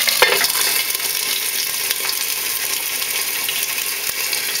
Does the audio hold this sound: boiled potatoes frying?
yes